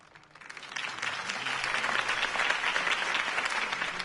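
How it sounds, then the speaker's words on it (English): Crowd applause and cheering after a campaign speech at a rally in the Batman Telltale Series video game, swelling from a quiet start into a steady, dense wash of clapping that holds loud to the end. "If only Mr. Wayne, my campaign's largest backer, could have heard that applause"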